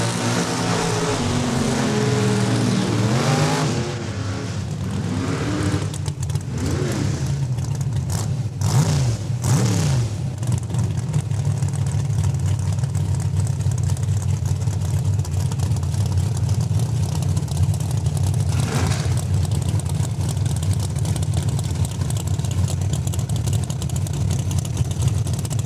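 Drag racing cars, including a red Camaro, launch and accelerate hard down the strip at Saskatchewan International Raceway in Saskatoon. Engines roar loudly and rise in pitch, then settle into a sustained, steady drone.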